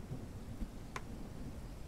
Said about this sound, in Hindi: यार ये फिर बारिश आने लग गई